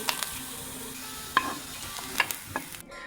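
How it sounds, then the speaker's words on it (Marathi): Chopped onion roasting in a pan until golden gives a soft continuous sizzle, broken by a few sharp scrapes and clinks as a spoon stirs it. "मस्त कांदा गोल्डन कलर होईपर्यंत भाजून घेतलाय"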